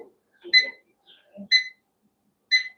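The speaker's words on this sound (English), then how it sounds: "Timer." A kitchen timer is set while cooking chicken wings, giving three short, bright electronic beeps about a second apart, close and clear, with faint button presses in between.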